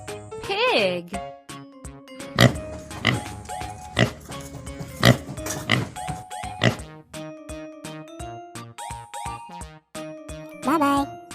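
A pig oinks and grunts in several loud, snorting bursts spread across a playful background melody with jingly accents.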